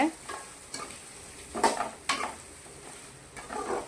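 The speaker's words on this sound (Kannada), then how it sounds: "ಆ ಉಳ್ಳಾಗಡ್ಡಿನೂ ಸ್ವಲ್ಪ ಫ್ರೈ ಆಗ್ಬೇಕು" Onions frying for a vegetable kurma, with a few scrapes of stirring against the pan over a soft steady sizzle, fairly close and quiet.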